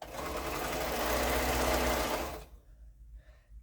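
A sewing machine stitches quilt pieces in a steady, close, continuous whir for about two and a half seconds, then stops abruptly, leaving quiet room noise.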